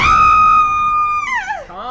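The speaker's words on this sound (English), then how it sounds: "we should probably just hard cut to her screaming in pain" A woman in labor lets out a loud, sustained scream of pain close by, holding a steady pitch before it wavers and breaks down at the end, with no other talk.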